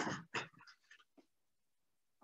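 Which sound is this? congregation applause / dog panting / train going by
dog panting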